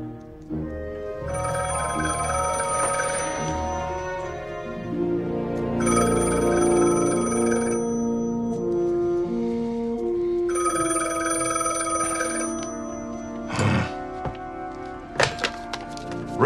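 An old telephone bell rings in three long bursts separated by pauses, loud and close, over a music score, and a few sharp thumps follow at the end.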